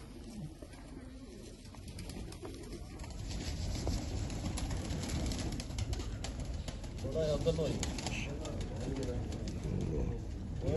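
Pigeons of the tiger breed coo softly at a pigeon show, their low murmuring calls continuing under a voice and nearby talk, with faint clip-clop-like background noise.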